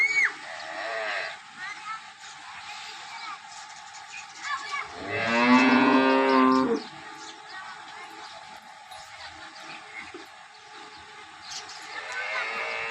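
A Kariya cow, a pregnant dairy animal on a farm, lets out one loud, drawn-out moo mid-clip, with quieter lowing at the start and end and a person talking over the farm ambience.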